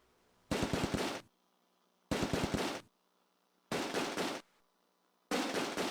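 Machine gun fire in the WWII game Close Combat: A Bridge Too Far, set in Veghel town during Operation Market Garden: four loud, sustained automatic bursts of rapid shots, separated by short quiet pauses.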